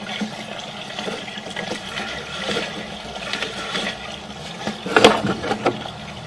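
Water rushing and gurgling through a drain pipe, a steady flow with a louder surge near the end, echoing in an enclosed space.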